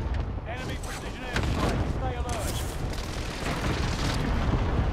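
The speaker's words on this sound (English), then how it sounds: "Precision airstrike." Precision airstrike explosions in Call of Duty: Modern Warfare land as a string of heavy, rumbling booms and blasts that overlap into a continuous roar, with voices talking over them.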